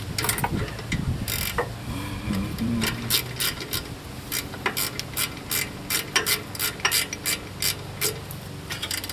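Ratcheting as caliper bolts are threaded in on the rear brakes of a 2003 Suburban, close metallic clicks in quick irregular bursts, with some rubbing and handling of parts early on.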